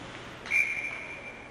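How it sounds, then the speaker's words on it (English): A referee's whistle at a high school hockey game gives one sharp, bright blast that starts abruptly and trails off slowly over a quiet arena background. "The whistle had already blown there."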